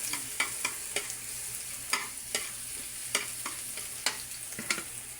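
Garlic and onion sauté in a pan under a steady sizzle, with regular scraping taps from a utensil stirring the pan every half second or so.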